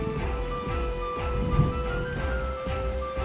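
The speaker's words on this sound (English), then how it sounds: "Oh, it's raining" Steady rain falls in the video game Lunars, a dense continuous patter with a low rumbling undertone and no voices.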